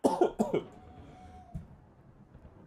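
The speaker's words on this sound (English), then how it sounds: "I can't shift this cough." A man with a lingering, persistent cough lets out two harsh, close coughs in quick succession, followed by a quiet stretch with a faint steady tone.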